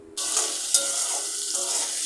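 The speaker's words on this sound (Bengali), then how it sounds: "এভাবে আস্তে আস্তে নাড়তে থাকবো" Vegetables fry in a hot pan with a continuous loud sizzle, broken by the scrape and clatter of a spoon stirring them around, close up and with no talk.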